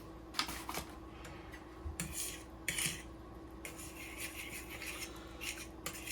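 Whisk scraping and clinking against a bowl while milk and thickener are beaten into a baked mac and cheese sauce, in quick irregular bursts of rubbing strokes, close and fairly quiet.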